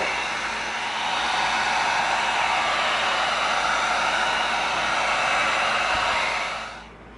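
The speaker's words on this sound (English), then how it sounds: "But first, we heat seal." A heat gun blows hot air to heat-seal EVA foam pieces for an arm cannon stand, a steady loud rushing hiss that holds constant for about seven seconds before cutting off at the end.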